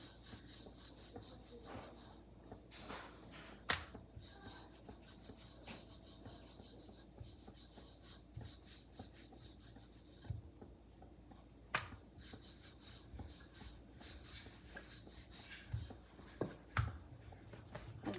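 Cauliflower-stuffed paratha dough is rolled out gently on a board, giving faint, soft rubbing and light wooden knocks of the rolling pin in an irregular rhythm, very quiet and close.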